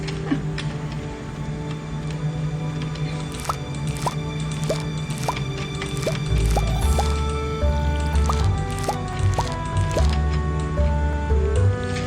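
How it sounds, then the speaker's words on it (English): Crops are watered in Stardew Valley with a steady stream of soft dripping, splashing water clicks over a constant game music bed, and a deeper rumble joins halfway through. "but now I gotta go water everything."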